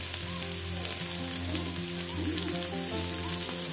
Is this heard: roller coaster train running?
no